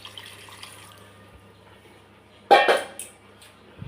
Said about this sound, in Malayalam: ചിക്കൻ്റെ വെള്ളം, അത് ഈ മസാലയിലേക്ക് ഞാൻ ഒഴിക്കുന്നുണ്ട്